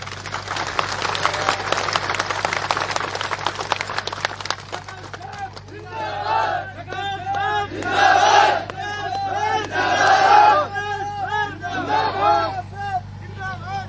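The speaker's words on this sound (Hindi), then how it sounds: "एक बार जोरदार तालियों के साथ में मेरे को इस बात को महसूस कराएं।" A large outdoor crowd at an election rally in Lohawat claps and cheers loudly, with dense applause at first giving way to rising waves of shouting voices and whoops that swell twice near the end.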